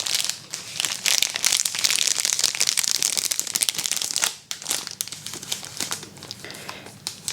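Crisp, close crinkling of a Nestlé Aero milk chocolate wrapper, handled continuously for several seconds with a brief pause midway, then sharper rustles and crackles; no voices.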